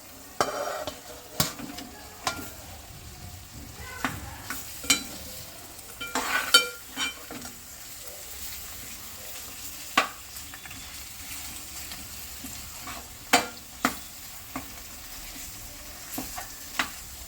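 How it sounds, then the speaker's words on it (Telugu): Fish roe stirred into onion stalks in a frying pan, a steady low sizzle of frying under repeated sharp scrapes and clinks of the spoon against the pan, moderately close and alone without talk. "ఇది చేప గుడ్డు అని చెప్పాను షేనా అన్నాం కదా అది ఇప్పుడు ఇందులో వేసి కలపాలి"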